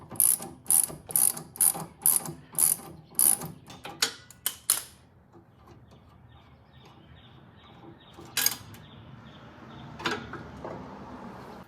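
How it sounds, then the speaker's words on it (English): A ratchet loosens the lower sway bar link bolt on a Mini Cooper. It gives a quick run of sharp, close clicks, then a few more spaced ones, followed by quiet handling with no speech. "this way you can instead use ratcheting to take it off"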